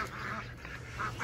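Chocolate-colored ducks on a farm quack in a steady run of nasal calls, several overlapping birds close by with constant outdoor background noise.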